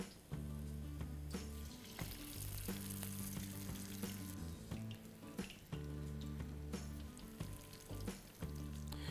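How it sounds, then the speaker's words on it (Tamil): Masala vadai frying in hot oil gives a steady, loud sizzle that runs throughout, broken by a few sharp clatters and knocks of utensils. No one speaks. "இது மாதிரி ஆயிலில் போடுங்க."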